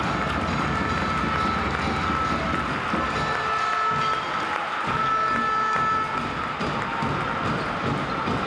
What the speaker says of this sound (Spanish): Ese fuerte aplauso para Maimouna Aydara.